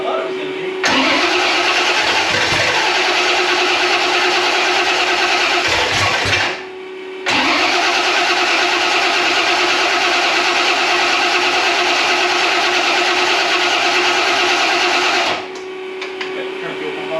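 A Ford small-block 427 V8 fires up for the first time in a garage, catching quickly and running with a loud, steady roar. It cuts out briefly, restarts and keeps running before dropping off near the end.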